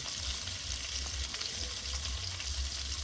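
Long-cut potato strips sprinkled with salt and a little turmeric fry in a pan for fish curry, giving a steady, close crackling sizzle with a low bubbling rumble throughout and no voices.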